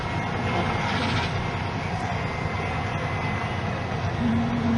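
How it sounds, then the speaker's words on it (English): A crashed airplane's engine keeps running after impact, a loud, steady broadband roar with a low droning hum that fills the whole stretch without pause. "That freaking engine's still running."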